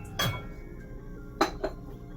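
Ceramic bowls clink and knock against other dishes as one is lifted out and handled: a solid clatter near the start, then two quick clinks close together about a second later, all close by in a quiet room.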